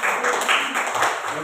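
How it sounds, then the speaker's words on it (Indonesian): Children clapping their hands together in a classroom, a short run of quick, fairly soft claps in a loose rhythm, with voices faintly under them. "Tepuk tangan."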